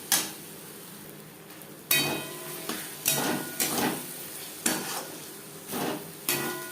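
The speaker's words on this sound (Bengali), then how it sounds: "এভাবে নাড়াচাড়া করে" Fried shrimp stirred in a pan with ground pointed gourd and green chilli paste: a run of scraping, clattering spoon strokes in irregular bursts over a soft background sizzle, near and fairly loud.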